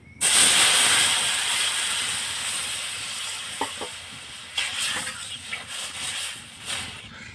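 Water poured onto lightly fried semolina in a hot pan bursts into a loud hiss and sizzle that slowly fades, followed by scattered stirring clinks and softer bubbling.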